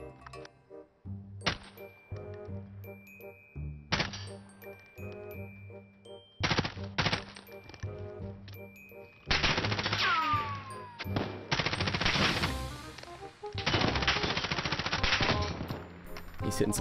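Call of Duty Warzone gunfire in a solos match, rapid automatic bursts and sharp shots with metallic clinks, starting sparse then building to loud sustained fire with faint voice chatter.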